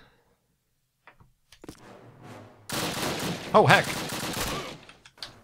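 Burst of rifle fire from a Call of Duty match on the Train Yard level, a dense rapid volley that follows a few scattered clicks and thuds. A man's brief exclamation cuts through partway.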